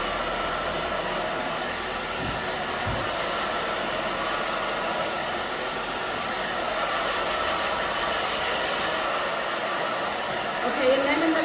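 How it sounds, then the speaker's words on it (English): A hair dryer blows steadily on short, freshly cut hair, a loud continuous close whoosh that holds throughout with only slight shifts in tone as it is moved. "Okay, so we're gonna start drying."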